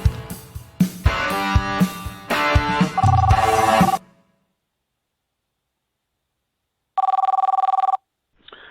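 A telephone rings twice in bursts separated by silence, following a short musical jingle at the start; bright, loud electronic trills. Heard at the opening of a football podcast's post-match report on Stoke City versus Millwall.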